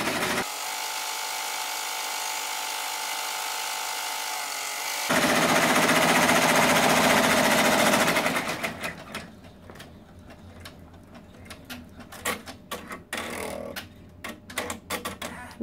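A Brother multi-needle embroidery machine stitches out a design on faux leather clipped to a fast frame, giving a steady, dense mechanical whir that becomes a rapid, irregular clatter of needle strikes.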